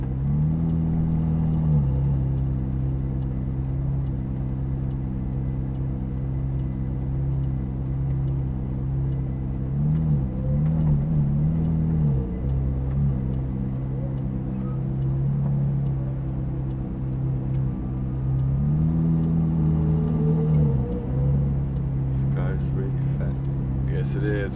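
A Ferrari F430 Scuderia engine drones steadily at Las Vegas Speedway as the car drives back toward the garage, rising in a few brief revs. It is heard from inside the car, with faint ticking.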